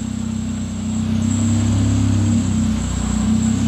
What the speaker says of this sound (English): It's got a squeaky belt.